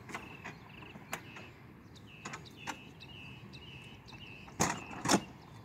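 Wheelchair lift door on a school bus closing and latching outdoors, with a few sharp metallic clacks and rattles, the loudest two near the end, over a steady hum and faint birdsong.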